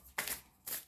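Tarot cards shuffled and handled in two quick papery bursts, close and fairly quiet, with a soft pause between them.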